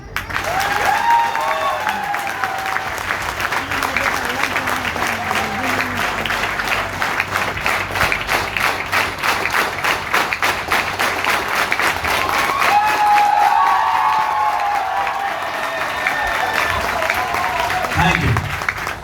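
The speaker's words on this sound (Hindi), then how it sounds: "बजाओ ताली।" An audience applauds and claps at a live gathering, a dense continuous roar of many hands lasting the whole stretch, swelling slightly near the end, with voices and shouts mixed in underneath.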